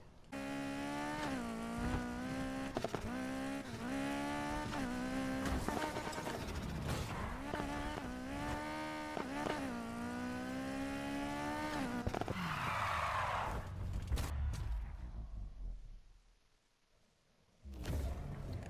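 A Nissan 350Z races in Need for Speed Heat, its engine loud and close as it revs up through repeated gear changes. A whoosh near the end is followed by a brief lull, then the engine picks up again.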